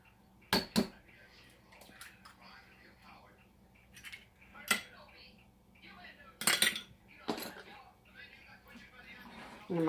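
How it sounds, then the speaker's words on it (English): A wire whisk stirs milk and an egg in a bowl, giving scattered metallic clinks and scrapes against the bowl, fairly quiet with pauses between bursts and a speaking voice at times. "I'm going to stir this up really good like this using my whisk"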